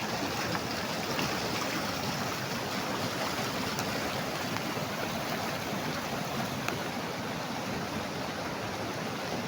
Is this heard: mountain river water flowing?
yes